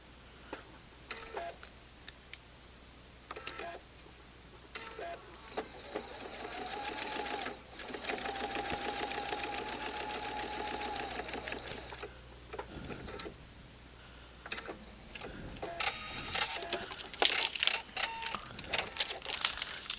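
A sewing machine runs in steady bursts as it stitches fabric along a marked line for a twisted quilt block, with a near, rapid mechanical chatter that speeds up, pauses and restarts with small handling clicks between runs.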